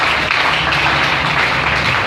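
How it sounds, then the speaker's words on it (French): A church congregation applauds loudly and continuously, a dense, even wash of clapping from many hands that fills the whole short stretch without a break. "Acclame très fort"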